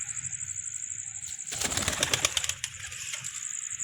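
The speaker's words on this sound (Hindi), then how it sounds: "ਅੱਜ ਕਬੂਤਰ ਦਿਖਾਉਣ ਲੱਗੇ ਆ ਤੁਹਾਨੂੰ" A pigeon flapping its wings in a rapid burst of wingbeats lasting about a second, close by, against a steady high-pitched background whine and low rumble.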